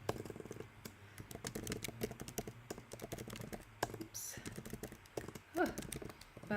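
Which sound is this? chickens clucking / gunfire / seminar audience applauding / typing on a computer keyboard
typing on a computer keyboard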